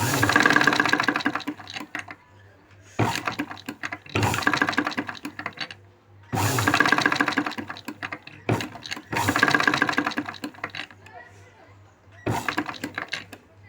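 A sewing machine stitches a boat neck blouse, gathering fabric at the sleeve joint, running in several bursts of rapid mechanical chatter separated by brief pauses.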